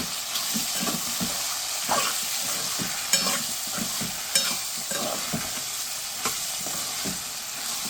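Onion with salt and chili powder is stirred in a hot pan, a continuous close sizzle with a rhythmic series of spatula scrapes and small clicks throughout.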